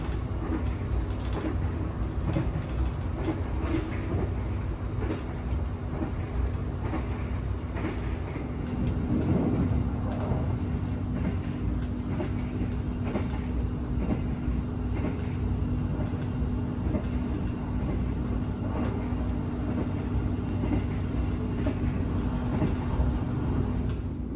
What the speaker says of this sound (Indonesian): Kereta api Manahan mulai meninggalkan Daob 1 Jakarta ya.